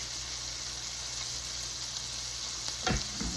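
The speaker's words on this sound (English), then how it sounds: "I think I'm just going to sear these for a minute before I do anything else." Seasoned red meat, salted and peppered, sears in a hot pan with a steady close sizzle throughout, a brief louder crackle near the end as pieces shift.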